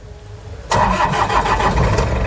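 A Toyota Qualis engine cranks and catches after a quiet moment, then settles into a loud, steady close-range idle with a faint rhythmic pulse.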